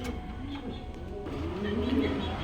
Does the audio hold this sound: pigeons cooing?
yes